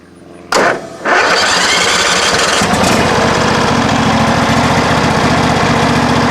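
A John Deere SST18 lawn tractor engine cranks over, catches and settles into a steady, loud mid-pitched running rumble up close, with no talking.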